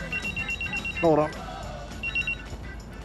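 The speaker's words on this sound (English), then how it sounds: "That'll be my phone ringing." A phone rings in a repeating electronic trill, sounding twice with a gap between bursts, while a person talks over it at close range.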